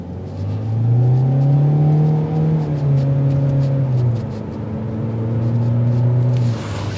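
A 2024 Hyundai Elantra SEL with a 147-horsepower engine and IVT transmission pulls away under acceleration, its engine note climbing steadily through about seven seconds as a continuous, fairly loud drone heard from inside the cabin.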